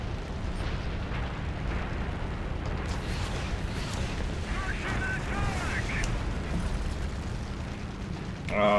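Heavy 1,000-pound bombs exploding in the War Thunder video game, a sustained loud rumbling blast roar with scattered booms, while a person talks over it.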